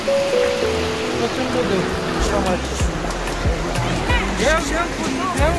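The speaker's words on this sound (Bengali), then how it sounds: "অনেক ঢেউ, ভয় কেউ নামতে পারতেছে না, প্রচন্ড ঢেউ" Strong river waves at Sada Pathor, Bholaganj, Sylhet, during rain, make a loud, continuous rushing and splashing roar close by, with people talking over it throughout.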